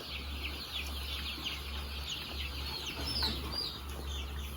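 Chickens on a Thai farm cluck and chirp steadily throughout, a dense flock heard near and far over a constant low hum of farm machinery, with no voices.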